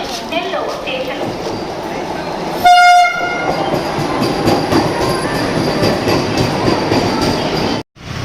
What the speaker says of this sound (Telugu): సో ఇప్పుడే అయితే వందే భారత్ వస్తుంది